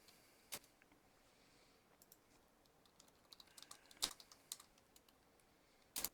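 Scattered keystrokes on a computer keyboard, faint and irregular, with a few sharper clicks standing out against a quiet background and no talking.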